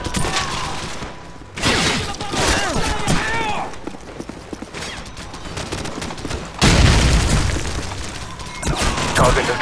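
A frag grenade explosion and rifle fire in Call of Duty 4: Modern Warfare on PC. Loud bursts of gunfire crackle throughout, a heavy boom lands near the end, and in-game voices sound over the combat.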